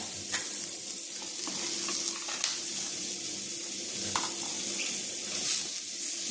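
Onion frying in a generous amount of butter, a steady close sizzle with stirring clicks and scrapes running throughout at an even level.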